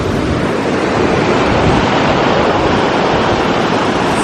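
Ocean waves break on a Florida beach in a loud, continuous wash of surf, roaring without pause and mixed with some wind buffeting the microphone.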